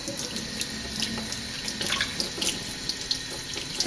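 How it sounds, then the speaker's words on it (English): Hot tap water runs steadily with a broad hiss, splashing unevenly as a soapy wool felt ball is moved and rolled under the stream. "So I'm going to go ahead and run it under hot water."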